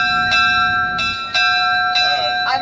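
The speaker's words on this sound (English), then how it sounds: "Now do the bell." A ship's bell rung aboard the boat Barbara J on a lounging cruise, four clear metallic strikes roughly every two-thirds of a second, each ringing on with a sustained tone over a low engine rumble.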